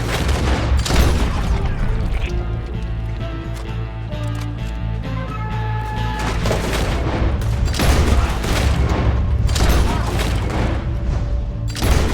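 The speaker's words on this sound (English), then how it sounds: "We're shooting our way out of here, boys!" Heavy gunfire in the western game Red Dead Redemption 2, booming shots and rapid volleys fired close and far during a shootout in the town of Valentine, set over tense orchestral music.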